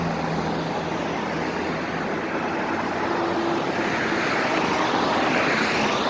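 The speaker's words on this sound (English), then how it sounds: "I apologize if it's loud, these big ass trucks and shit" Steady, loud roar of heavy truck traffic rushing past, a continuous wash of engine and tire noise with no pauses.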